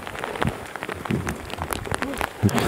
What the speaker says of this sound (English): the rain is falling in the mountains